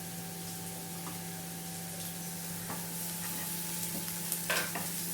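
Spices and a little turmeric powder fry in a pan under a steady, soft sizzle. Light scraping stir strokes come through near the end, with a constant background hum and no talk.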